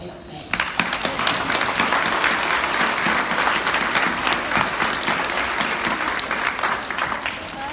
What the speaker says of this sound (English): So I think we'll give them all a big clap.